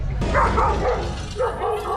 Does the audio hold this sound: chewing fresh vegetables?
no